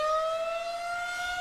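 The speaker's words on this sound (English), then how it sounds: "What's this siren, man?" A siren sound effect plays on a podcast, a steady sustained wail held at one pitch, loud and clear, with no talk over it.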